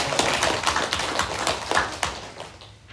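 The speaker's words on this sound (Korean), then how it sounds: "우리 박수로 감사히 박수합니다." A church congregation applauds during a Sunday worship service, a lively burst of overlapping hand claps at close range that thins and fades near the end, with no talking.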